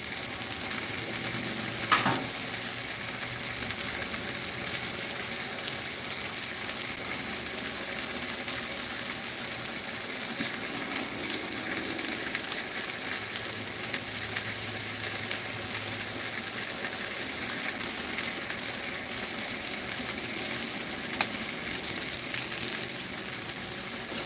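Pompano fillets crisping skin-side down on a Blackstone griddle give a steady, close sizzle and crackle that runs alone and unbroken, with a few faint scrapes.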